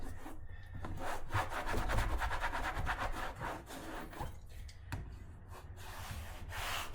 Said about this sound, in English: and you really got to scrub.